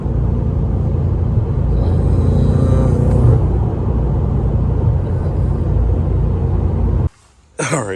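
A BMW M5 sits idling with a deep, steady low rumble close by that holds evenly for several seconds before a brief drop-out and a short burst of noise.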